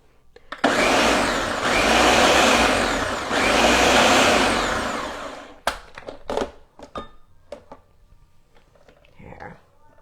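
A kitchen mixer blends a Mediterranean dip in two loud, steady whirring bursts with a brief dip between, then stops and is followed by scattered clinks and handling noises.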